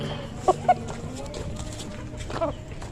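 Chickens cluck in a few short, sharp bursts close by, over a murmuring background with talk.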